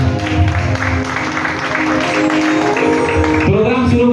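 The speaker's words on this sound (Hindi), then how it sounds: "तव्हांखे झूलेलाल लाइ ज़ोरदार ताली वॼाए छॾो" Loud, steady applause from a crowd honoring Jhulelal at a Sindhi community program, clapping continuously throughout with a sustained tonal drone underneath and a shift near the end.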